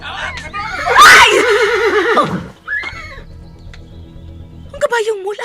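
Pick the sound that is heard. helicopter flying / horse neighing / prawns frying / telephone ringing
horse neighing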